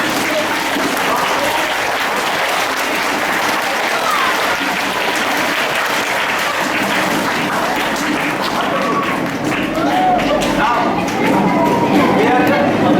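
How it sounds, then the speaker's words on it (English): A large seminar audience applauds continuously, a dense, steady wash of clapping that swells slightly toward the end. "On that note, 1 2 3 clap करते हैं।"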